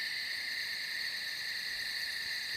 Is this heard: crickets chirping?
yes